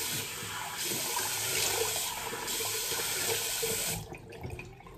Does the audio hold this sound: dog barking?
no